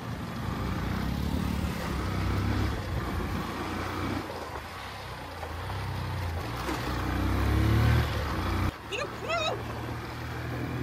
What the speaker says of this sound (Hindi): बहुत दिनों बाद मैं बाइक पे आया हूँ।